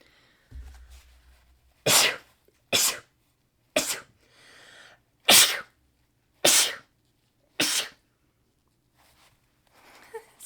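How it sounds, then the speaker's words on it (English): A string of sharp sneezes, about seven bursts spaced a second or so apart, close and loud against a quiet room. "Uh-oh, I gotta sneeze."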